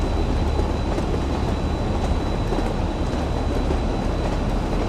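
A BR Class 45 diesel locomotive is driven in Train Sim World in rain, a continuous rumble of engine and rolling rail noise at steady level with faint clickety-clack.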